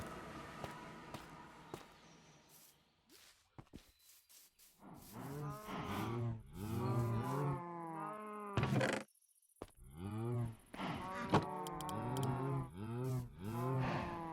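Minecraft cows moo repeatedly in loud, drawn-out calls, overlapping in bursts with short gaps between them.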